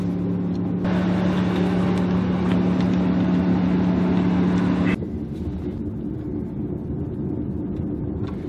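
A car drives through a neighborhood, a steady engine drone with wind noise heard from inside, louder for the first few seconds, then easing to a lower rumble.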